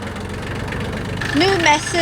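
A tractor engine runs steadily at a building site where a retaining wall is under construction, a low continuous idle-like rumble that holds throughout, with a brief bright whistle-like tone rising over it near the end.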